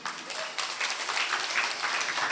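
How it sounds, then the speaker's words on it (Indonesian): A religious sermon audience in Sidoarjo answers with a burst of applause, a moderate wash of many hands clapping that swells slightly and holds steady, with faint voices underneath. "Tepuk tangannya mana?"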